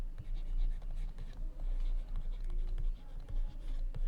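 Pen writing coefficients by hand on paper, a close series of quick scratchy strokes and taps in an irregular rhythm, quiet and alone.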